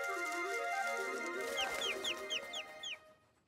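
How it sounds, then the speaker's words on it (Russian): Cartoon bird chirping in a series of about six quick bright chirps over a soft musical background, with no talk. "Это просто птичка."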